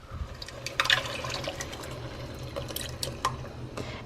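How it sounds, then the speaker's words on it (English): Light coconut milk poured from a can onto vegetables makes a soft, quiet liquid splashing and dribbling sound for several seconds, with no talking. "I'm adding in 1 can of light coconut milk."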